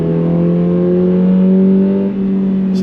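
A 2022 Toyota GR86 in sport mode revs, its engine note played through a synthetic sound generator. The loud, steady droning hum holds level inside the cabin, with a slight dip near the end.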